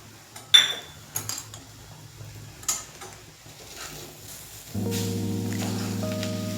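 A metal spoon scrapes and clinks against a pan while crushed green chillies and spices are stirred in ghee for mustard rice, several sharp taps, then a steady sizzling hum takes over near the end.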